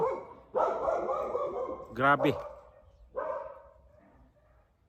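A dog gives a short burst of two or three barks from nearby, set between stretches of a person talking.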